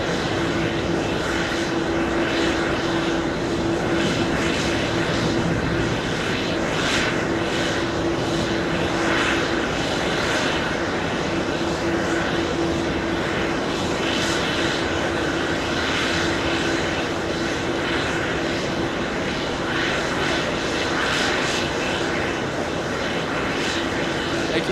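An American Airlines Boeing 777 at JFK, bound for Barcelona, gives a steady, loud roar of jet engines that holds without letting up for the whole stretch.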